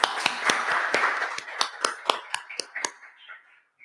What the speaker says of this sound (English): we ask that you just give them a round of applause